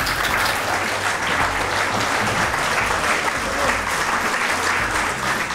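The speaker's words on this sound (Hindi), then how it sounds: "तो जनाब बुलाएंगे हम अजीज़ फैसल साहब को, आपकी भरपूर तालियों में।" Dense, steady applause from an audience at an Eid special mushaira fills the whole stretch, loud and close with no break.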